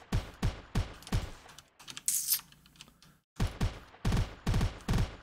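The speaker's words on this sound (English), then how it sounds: "Oh, you can do a burst fire." In the video game Shogun, a handgun fires in rapid bursts of sharp clustered shots, loud and close, with a short pause midway before more quick bursts follow.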